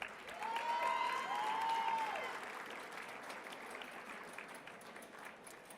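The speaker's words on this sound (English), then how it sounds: "let's give them a round of applause to welcome them back to the stage" Audience applause welcoming pageant contestants back to the stage at Mr. Vineland 2019, a soft, steady wash of clapping heard from a distance, fading slightly near the end, with a brief whistle-like tone early on.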